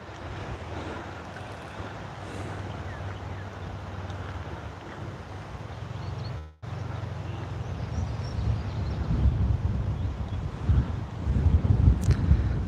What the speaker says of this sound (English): The wind is very challenging with the bobber.